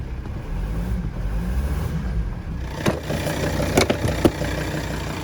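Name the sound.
Volvo V70 D5 diesel engine starting and running after injector replacement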